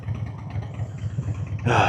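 A low, pulsing engine rumble passes nearby, ending in a louder burst of noise as another vehicle rushes close.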